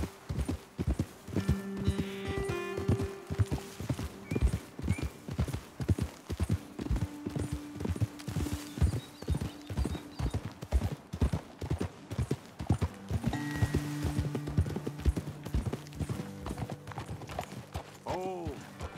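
Horse hooves clip-clop steadily on a trail in Red Dead Redemption 2, several horses close by, with a musical score and occasional tonal swells underneath.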